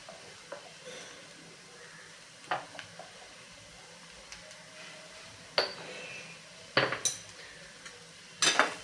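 Onion and dal sauté in a pan with red chilli powder and salt, a soft sizzle under scattered sharp clinks and scrapes of a spoon stirring against the pot, growing busier toward the end.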